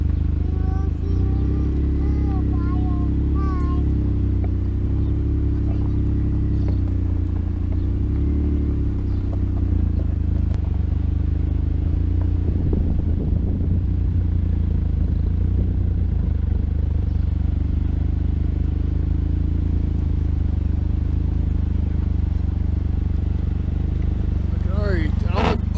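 Homemade lifted Smart ForTwo gas golf cart on Jeep wheels driving on flat ground, a steady buzzing small engine drone close and loud throughout, with faint voices.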